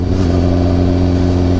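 A 2016 BMW S1000RR motorcycle runs at full throttle in sport mode on a road, a loud, close, sustained engine roar holding a steady high pitch with strong wind rush.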